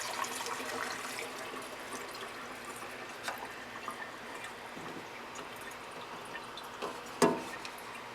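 Bestine rubber cement thinner is poured through a funnel back into its metal can, producing a steady, faint liquid trickle with small drips and a brief splashy burst near the end; no talking.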